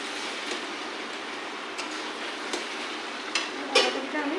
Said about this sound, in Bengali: বাঁধাকপিটা একবার ভেজে নিই।